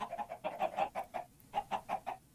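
Chickens being led on leads in a video game cluck in quick, rhythmic bursts, about a dozen short clucks close up and alone.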